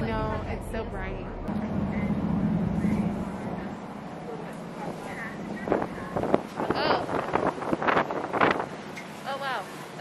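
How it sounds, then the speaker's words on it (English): Wind gusting across the deck of a first-class ferry cabin area in Maine, a steady rushing roar buffeting the microphone, with people talking and exclaiming close by over it. "Oh wow, that's windy."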